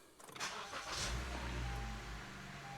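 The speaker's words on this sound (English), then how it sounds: "we're gonna start and run the car, let it build up oil pressure" A Honda Civic 1.8L engine cranks and catches, then settles into a steady, low idle that stays close and even, with no talking.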